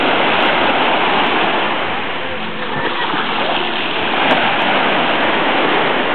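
Water rushes loudly in a constant roaring wash, close by, swelling slightly midway with no clear talk over it.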